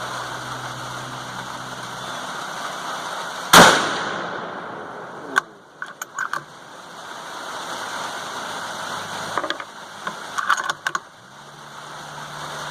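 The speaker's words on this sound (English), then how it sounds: "Gun dipped down right when I shot." A single sharp shot from a 450 Bushmaster rifle firing a 200gr FTX handload with H110 powder cracks loudly outdoors, followed by fainter clicks and handling noises against a quiet background.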